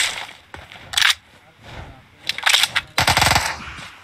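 Bursts of rapid video-game gunfire, rattling in several separate volleys with quieter gaps between them, the last and loudest run near the end, with a voice talking faintly alongside.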